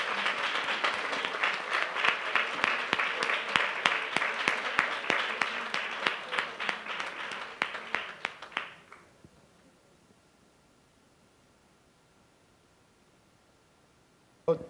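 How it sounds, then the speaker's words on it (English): A conference audience gives a long, warm round of applause for author Rob Doyle, individual claps standing out in the mix before it tapers off and stops, leaving near silence with a brief noise at the end. "please join me one last time in giving Rob a very big round of applause"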